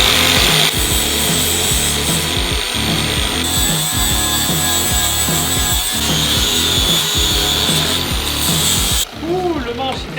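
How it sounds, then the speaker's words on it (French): An angle grinder smooths and shapes a wooden Viking axe handle, giving a loud close rhythmic rasping with repeated pulsing strokes against the wood and a continuous whine, easing off briefly near the end. "on va prendre la disqueuse et on va limer tout ça"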